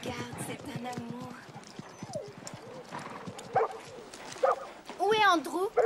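A cartoon dog barks and yips in a French-dubbed animated horse-riding series, its short excited calls clustered near the end over a busy backdrop of dialogue and hoof clip-clops.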